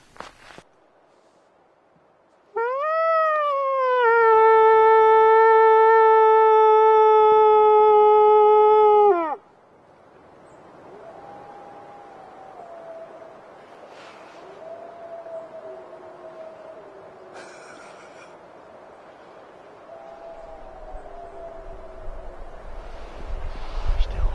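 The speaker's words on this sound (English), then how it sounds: "let's go listen to them and see what we did howling at them" A wolf pack howler device sounds a loud, steady, harmonic-rich howl, and then faint, distant wolves answer with wavering howls over wind noise.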